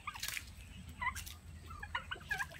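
Turkeys on a farm after a typhoon give quick, bubbling gobbles in several short bursts, fairly close and clear over a quiet background, alongside chicken-like clucks.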